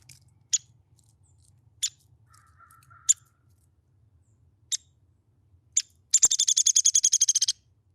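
Downy woodpecker giving sharp single squeak call notes spaced a second or so apart, then a fast rattling burst of rapid repeated notes, close and clear over near silence.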